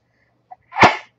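A single short sneeze, sharp and close, preceded by a tiny click, then silence.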